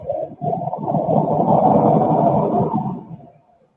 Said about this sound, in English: Hear that truck?